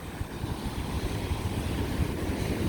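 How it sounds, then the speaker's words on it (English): Ocean waves wash onto a San Diego beach as a continuous soft surf roar, mixed with light wind buffeting the microphone and no voices. "Beautiful waves."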